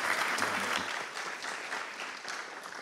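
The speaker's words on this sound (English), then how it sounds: "just a round of applause for all of our speakers" Conference audience applauding its speakers at an international ocean sustainability event, a moderate, even patter of many hands that tapers slightly toward the end, with no talk over it.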